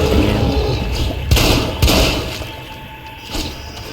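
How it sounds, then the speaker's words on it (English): A shotgun fires twice in quick succession in the extraction shooter video game Sulfur, each shot a sharp loud blast over a busy background of game ambience, followed by fainter impacts. "I'm gonna go ahead and use the shotgun on him."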